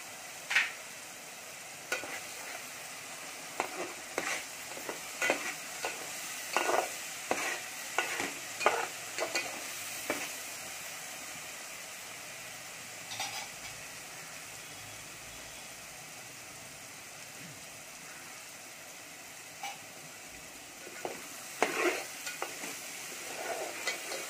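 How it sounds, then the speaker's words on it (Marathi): Spices including turmeric dry-roasting in a pan for a mixed vegetable bhaji, with repeated close scraping strokes of a spatula over a soft background sizzle, irregular stirring bursts that pause midway and resume. "आता आपण सगळे मसाले चांगले भाजून घेऊया."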